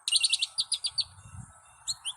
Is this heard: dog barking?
no